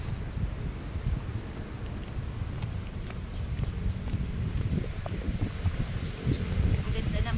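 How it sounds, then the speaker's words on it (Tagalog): Steady, heavy, cold wind at a lakeside park in Taipei buffets the microphone throughout, a dense low roar with gusts, with faint rustling in the background. "Grabe ang hangin!"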